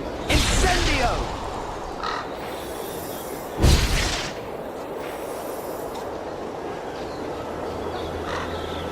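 Incendio fire spell cast in the PC game Harry Potter and the Order of the Phoenix: two sharp, loud whooshing bursts, one at the start and another a few seconds later, over steady background ambience with a voice talking.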